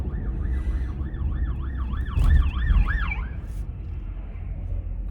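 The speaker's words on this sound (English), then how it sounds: "Oh, there's an ambulance coming." An ambulance siren wails in a rising and falling yelp, swelling louder as it passes close by a car on the road, with steady traffic rumble underneath and no talking.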